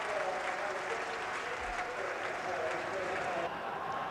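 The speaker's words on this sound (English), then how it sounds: "And there's applause for the unfortunate Chris Turner." A football stadium crowd applauds a player, a broad, steady wash of distant clapping at moderate volume with faint crowd murmur, continuing without a break.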